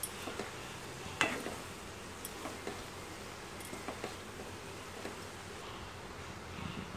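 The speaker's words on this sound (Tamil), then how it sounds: "இந்த சோயா சாங்கை உள்ளே போட்டுக்கலாம் போட்டு நல்லா மிக்ஸ் பண்ணிக்கலாம்" Soya chunks are stirred into a gravy in a pan, giving faint, scattered ticks and soft scraping of a spoon over a low simmering sizzle, quiet and close, with no talking.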